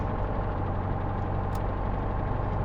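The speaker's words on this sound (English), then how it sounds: "Now we're gonna do the start left engine." Engine of a P-38 fighter in Microsoft Flight Simulator, modeled at RAF Lakenheath, running in a steady low rumbling drone with no distinct start-up surge, continuous and fairly loud throughout.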